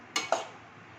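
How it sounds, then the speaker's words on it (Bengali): A metal lid is set onto a cooking pot of fish curry, two quick clinks in succession followed by a faint fading ring in an otherwise quiet kitchen. "এবার এটা একটু ঢাকা দিয়ে দেবো"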